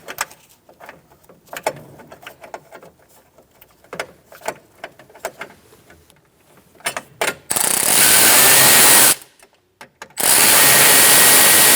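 A power tool drives fasteners to secure a metal cover during power window motor and regulator replacement on a 2007-2017 Ford Expedition, preceded by light clicks and handling, then two loud sustained bursts of whirring.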